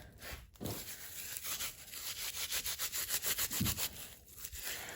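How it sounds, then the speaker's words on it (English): Dry, long-stored grass is rubbed between the hands to make a tinder bundle, a close, quiet rhythmic scratching and rustling in quick repeated strokes. "take all the dry grass, and you kind of just rub it in your hands"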